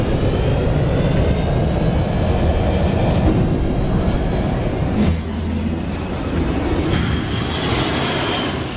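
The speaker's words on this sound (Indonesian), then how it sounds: "Pesawat pun mulai bergerak dan bersiap untuk lepas landas." Airplane in a film scene beginning to roll and preparing for takeoff, with a steady loud broadband engine roar throughout and a brief shift in tone midway, no voices.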